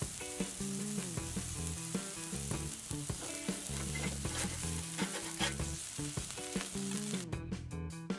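A smash burger patty topped with melting cheese sizzles on a grill under a closed lid, giving a steady frying hiss beneath louder rhythmic, tonal background music that runs throughout.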